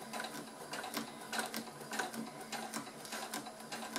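Sewing machine stitching along a zipper on a faux leather half-moon coin purse, a steady rhythmic needle clatter running slowly and evenly throughout, no voices.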